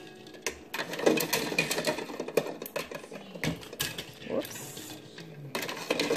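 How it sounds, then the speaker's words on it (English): Cooked large eggs dropped one after another into a bowl of cold icy water, making rapid clinking taps and splashes at close range with no talking. "I'm just going to continue to add the eggs off in there to the cold, icy water"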